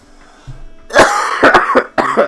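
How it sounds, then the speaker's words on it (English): Someone coughs several times in quick harsh bursts close to the microphone, then clears their throat, after a moment of quiet background. "I had to cough for like the last 5 minutes."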